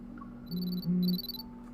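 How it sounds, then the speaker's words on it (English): A hunter's watch alarm in a video game gives two short electronic beeping bursts, bright and pulsing, over a soft steady hum with no speech. "My hunter's watch suddenly sounds an alarm."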